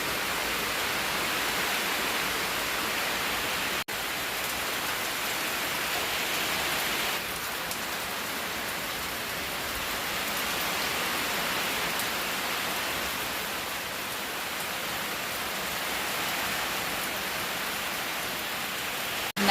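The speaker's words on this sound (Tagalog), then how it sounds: "tag-ulan na talaga" Steady rain of the rainy season pours down in the Philippines, a continuous dense hiss of drops striking surfaces at an even, moderate level with no voices.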